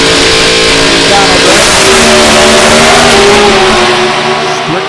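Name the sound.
six-cylinder Ford altered Mustang drag racing car launching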